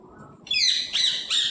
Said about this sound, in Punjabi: ਤੋਤਾ ਬੋਲਦਾ ਜੀ